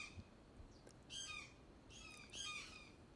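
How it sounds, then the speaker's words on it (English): A bird gives repeated harsh squawking calls in two bursts outdoors in the morning, fairly near and alone over a low background hum, with no talking. "Every morning this bird's just bah, bah."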